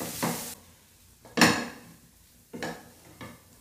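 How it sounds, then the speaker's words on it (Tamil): Ground spice powder being stirred into a mutton mixture in a pan, with four separate scraping, clattering strokes of a utensil against the metal pan at uneven intervals over a faint sizzle, with no speech. "அதை போட்டு நல்லா நல்லா பச்சை வாசம் போக கூட அப்படியே மிக்ஸ் பண்ணி கலந்து வச்சுக்கோங்க"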